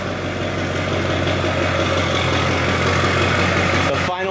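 A Duramax diesel pickup engine runs loud and steady on a dyno, a sustained low rumble and drone that cuts off abruptly near the end.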